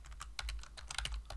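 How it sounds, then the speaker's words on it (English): Quick, light clicks of a computer keyboard being typed on, a dozen or so uneven keystrokes close by at low volume. "My keyboard is like not taking my inputs."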